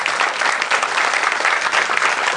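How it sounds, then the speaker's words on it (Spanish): Audience at a political rally in Santa Bárbara, Azcapotzalco, breaking into steady, loud applause, dense clapping that holds evenly throughout without voices standing out. "Aplauso y le damos la palabra al doctor Pablo Moctezuma"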